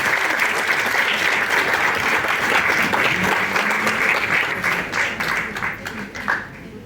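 A lecture audience at a talk on chest X-rays gives a speaker loud, sustained applause. The clapping is dense at first, thins toward the end with a few scattered claps, and a low voice murmurs briefly underneath.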